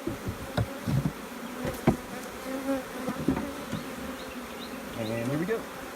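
A strong honeybee colony from a relocated swarm in a 10-frame hive hums with a steady buzz, individual bees droning close by in passing loops, with occasional knocks and soft handling noises.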